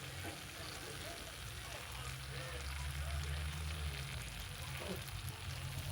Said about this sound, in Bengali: গ্যাসটা বন্ধ করে দিয়েছি, কিন্তু এখনো এটা ফুটছে